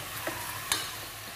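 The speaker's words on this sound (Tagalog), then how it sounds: "sinusuti ko muna itong manok. Kumbaga, ginigisa ko muna para mas masarap siya" Chicken pieces sautéing in a pan for adobo with oyster sauce, a soft steady sizzle with a couple of brief stirring scrapes, close and fairly quiet, no voices.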